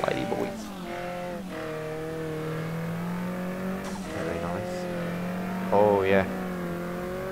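A car drifts in the racing game MTA:SA on an NFS street-racing server: a steady engine drone with rising and falling revs and bursts of tire squeal. Someone speaks briefly over the driving.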